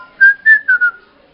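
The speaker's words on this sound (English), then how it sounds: "No, I can only whistle." A person whistles a short, clear, near phrase of four quick notes with a sliding pitch, alone against silence.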